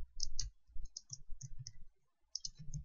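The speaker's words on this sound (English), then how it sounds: "I'm going to type" Typing on a computer keyboard, a close run of crisp irregular key clicks in quick bursts, with a brief pause before the tapping resumes.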